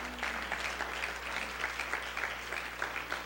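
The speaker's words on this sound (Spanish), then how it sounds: "démosle aplausos al Señor, hermano" A church congregation at a Spanish-language service applauds in a steady, rolling patter of many hands, fairly soft and distant, with a low electrical hum underneath.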